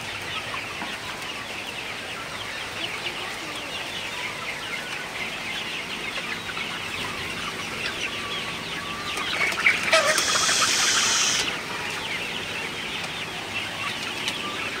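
Sonali super hybrid chickens cluck steadily in a poultry house on a rainy morning, a continuous murmur of calls with a brief, louder flurry of wing flapping midway.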